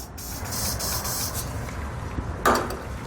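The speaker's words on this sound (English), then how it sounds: "I'm going to be taking a spray lubricant and spraying those down in those holes" A steady hiss of an aerosol spray lubricant being sprayed into mounting holes under a 2021 GMC Sierra runs in short bursts, followed by a sharper, louder spray blast near the end, close to the microphone.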